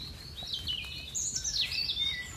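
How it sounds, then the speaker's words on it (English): A chorus of songbirds in rainy woodland at a wild camp, bright chirps and warbling calls overlapping continuously at moderate distance, with no talking. "And now, just got this chorus of birds."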